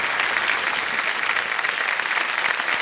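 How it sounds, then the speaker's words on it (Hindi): A television quiz show studio audience applauding a contestant's win, dense continuous clapping from a full crowd, steady and fairly loud throughout with no break. "तालियों के साथ इनका हम अभिनंदन करते हैं"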